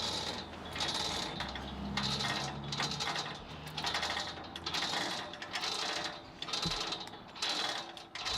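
A chain hoist lowering a tower section into place, giving a near, quiet run of rhythmic ratcheting clicks and rattling chain in repeated bursts.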